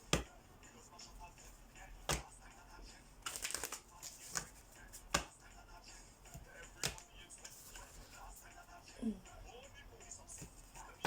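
A deck of mystery cards is handled and shuffled, giving scattered sharp snaps and a short riffling burst, with a voice speaking quietly between them.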